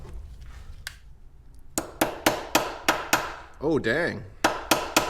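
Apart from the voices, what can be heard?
hammering a part on a Honda 400ex ATV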